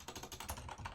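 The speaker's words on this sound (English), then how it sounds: "Typing" Fingers type rapidly on a computer keyboard, a dense close run of clicking keystrokes with no speech.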